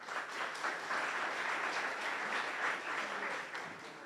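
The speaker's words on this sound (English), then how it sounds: "Round of applause" An audience at a tech talk on nano and biotech gives steady, moderately loud applause, a dense wash of many hands clapping that holds for about four seconds without speech.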